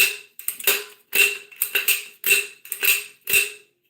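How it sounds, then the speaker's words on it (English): A reloading powder measure is cycled by hand to empty out leftover powder, giving a series of about eight sharp metallic clicks and clacks in an uneven rhythm, close and fairly loud, with no talking. "So you'll have to manually cycle the powder measure a few times."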